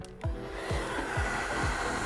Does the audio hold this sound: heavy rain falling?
no